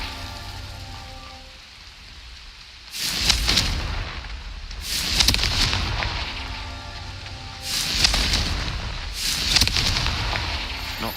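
Confringo blasting spell explosions in Hogwarts Legacy, a fantasy video game: four loud bursts in a row, each a booming crack with a bright fizzing tail, separated by brief lulls.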